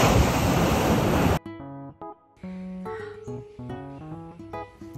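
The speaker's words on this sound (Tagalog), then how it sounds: "Ang lakas pa ng alon." Strong ocean waves at Casapsapan beach in Casiguran, Aurora, a loud, roaring wash of surf for about a second before it cuts abruptly to music.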